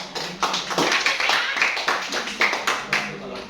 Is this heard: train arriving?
no